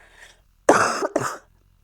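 A single deep, chesty cough from someone ill, a harsh two-part burst up close after a faint breath, with no talking.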